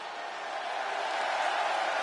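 Arena crowd in the WWE 2K26 wrestling video game gives a sustained, steady roar of cheering, a broad even wash of noise that swells slightly, with no talking.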